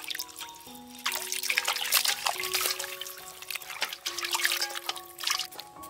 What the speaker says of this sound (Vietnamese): Cái này mình rửa qua các bạn.